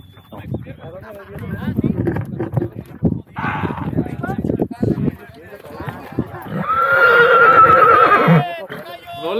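At an extreme horseback ride in Arandas, Jalisco, a horse gives one loud, drawn-out neigh close by, following a stretch of people talking.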